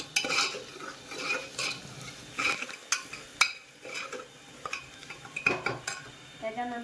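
A spoon stirs red chili powder into dal in a metal pot, giving irregular scraping strokes and sharp clinks against the sides, fairly close and quiet.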